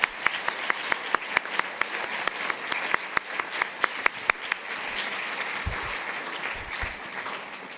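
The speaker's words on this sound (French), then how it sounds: "on peut s'arrêter là avec ces applaudissements" Audience at a public talk and meeting with Rokhaya Diallo on activism breaks into applause, crisp individual claps standing out over a dense steady clapping crowd that gradually thins toward the end.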